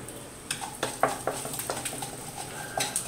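Mustard seeds, urad dal, cumin, pepper and asafoetida fry in hot oil with a soft steady sizzle. Irregular little pops and crackles burst through it, close and fairly quiet, with no voices.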